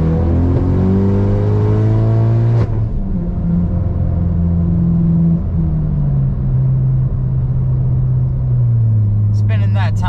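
A built Ford Focus ST with a Garrett G25-660 turbo accelerates at full throttle, engine loud and close, revving up through the gears with the pitch climbing and dropping at each shift.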